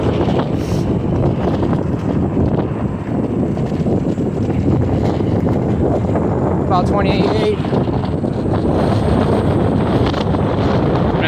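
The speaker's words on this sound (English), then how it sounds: "pretty windy, going against the wind" Strong wind buffets the microphone of a Ninebot Segway ES4 electric scooter riding into a headwind, a continuous loud rushing roar throughout, with someone talking briefly over it.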